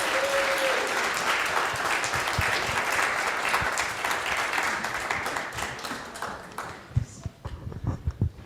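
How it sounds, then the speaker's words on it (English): Applause fills a Unitarian fellowship sanctuary as the congregation claps steadily and densely for several seconds, fading toward the end with scattered louder claps. "we'll greet you with applause as you see it."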